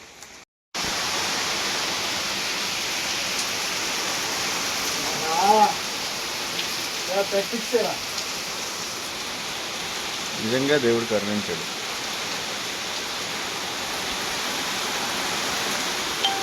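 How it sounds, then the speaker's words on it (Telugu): Heavy rain pours down steadily and loudly throughout a summer trip outing, a dense unbroken wash of sound, with a few short bursts of people talking over it. "వర్షం పడుతుంది, మామూలుగా లేదు ఇక్కడ."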